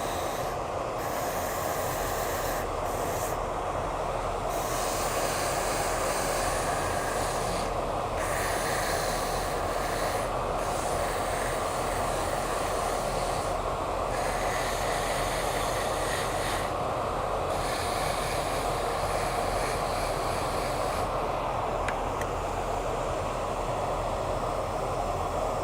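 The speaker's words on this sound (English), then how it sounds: "So I'm going to clean this wheel off. I got a piece of 80 grit sandpaper on here." A spinning wheel fitted with 80 grit sandpaper, used while cleaning gunk off the wheel, gives a steady, loud, continuous whirring rub that holds for the whole stretch, with a few brief dips and no speech.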